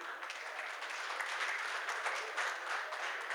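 An audience at a Ram Leela event gives steady, even applause for a child performer, a continuous wash of clapping heard alone.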